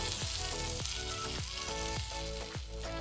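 Hot tadka tempering of spices in oil being added to a pot of dal, giving a continuous bright sizzle with repeated swooping scraping strokes as it is stirred, close and steady.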